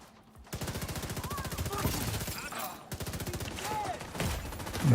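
Rapid automatic gunfire in a shooter video game, dense bursts of shots in a steady rattling rhythm with a brief pause, continuing under faint background sound.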